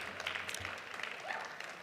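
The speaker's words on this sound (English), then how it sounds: "You can applaud for Pennsylvania's kids." An audience at a Pennsylvania keynote address applauds, a soft, scattered patter of clapping heard from a distance that continues evenly throughout.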